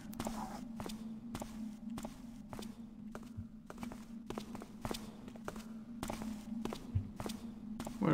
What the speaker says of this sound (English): His footsteps reverberating everywhere, but I can't see a sign of him.